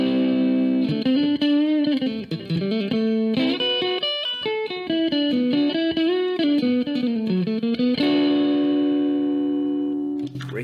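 Electric guitar with single-coil pickups played through a Fender Mustang LT25 amp, loud and effected with distortion, chorus and reverb: a sustained chord, a run of melodic notes, then another long ringing chord.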